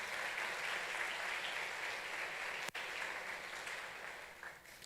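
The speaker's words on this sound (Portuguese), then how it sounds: "Dê um aplauso ao Senhor por isso" A church congregation claps together in steady, moderately distant applause during a sermon, a dense even wash of hands that carries on for several seconds with a brief dip midway.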